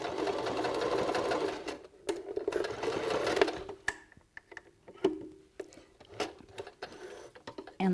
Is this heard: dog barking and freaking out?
no